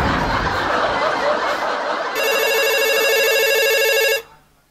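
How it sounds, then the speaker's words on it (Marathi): A mobile phone rings with an incoming call, a loud electronic ringtone that starts partway through over a noisy room with laughter and chatter, then cuts off abruptly near the end. "बायको कॉलिंग."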